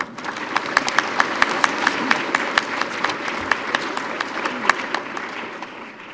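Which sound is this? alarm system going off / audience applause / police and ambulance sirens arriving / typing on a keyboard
audience applause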